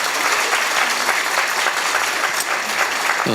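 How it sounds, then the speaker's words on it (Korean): A lecture hall audience of university students in Gwangju breaks into dense, sustained applause, loud and continuous throughout with no break. "박수합니다."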